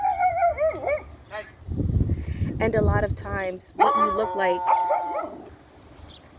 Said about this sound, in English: sorry about that, my neighbor's dogs